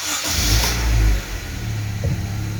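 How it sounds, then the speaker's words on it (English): A 2016 Honda HR-V engine cranks and catches, then revs up and settles into a steady idle, close by and fairly loud, with a couple of brief surges in engine pitch. "after that we're going to start the engine."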